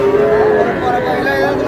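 Cattle moo loudly and steadily at a busy cattle market in Aftabganj where young bulls and heifer calves are sold, with a crowd murmuring faintly around them.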